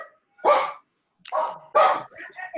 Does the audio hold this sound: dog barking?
yes